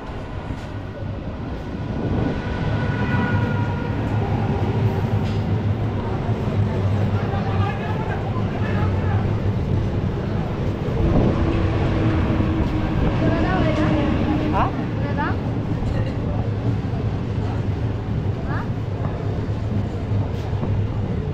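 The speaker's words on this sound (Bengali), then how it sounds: "তো এখন কিন্তু ট্রেন চলে আসছে বন্ধুরা," A train bound for Krishnanagar rumbles steadily into a station platform, a low continuous roar with occasional squeals and clanks, while people talk nearby.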